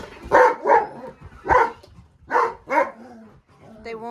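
Several dogs bark in Missoula, Montana, in sharp separate bursts, loud and close, with pauses between the volleys and a softer yelp near the end.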